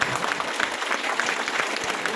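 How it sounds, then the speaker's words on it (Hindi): A crowd in a packed hall applauds steadily, a dense, even clatter of many hands at moderate loudness for the whole stretch, with no clear speech over it. "आप लोग इतने तालियां बजाने से एनर्जी आती है"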